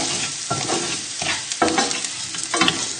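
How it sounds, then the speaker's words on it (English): Rice stirred into a pan of chorizo, garlic and shallots hisses and sizzles loudly and continuously, with rhythmic scraping strokes of the spoon cutting through the frying. "just tip in your rice and give it a good stir"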